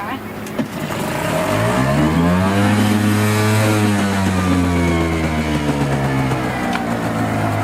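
A small outboard motor on a dinghy, running poorly, drones loudly and close with a rising then steady pitch, its buzzing harmonics continuing throughout.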